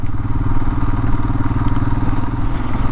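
A Royal Enfield Himalayan motorcycle rolls onto a gravel backcountry road, its steady, loud engine drone continuous throughout with light crunching and clatter from the gravel beneath.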